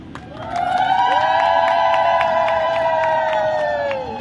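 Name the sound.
crowd cheering and clapping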